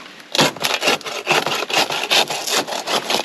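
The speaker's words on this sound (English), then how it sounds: "I'm about to cut a swamp cabbage with this right here." A hand saw cuts into a swamp cabbage palm outdoors, making loud rhythmic rasping back-and-forth strokes, about a dozen in quick succession, close up.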